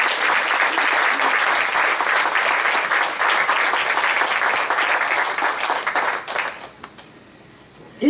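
A church congregation claps and applauds in a dense, steady wash of hands for about six seconds, then it quickly thins out and fades to near silence.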